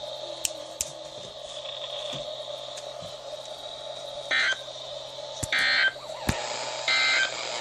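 NOAA Weather Radio emergency alert transmission for a required weekly test, with three short bursts of harsh, steady data-burst alert tones over a background of radio hiss and a faint continuous hum, the bursts spaced a second or so apart.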